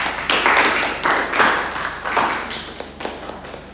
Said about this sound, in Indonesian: aplaus untuk Irza